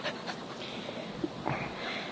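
A border collie, tired after agility training, pants in quick rhythmic breaths close by, with a few soft high whimpers breaking through the quiet panting.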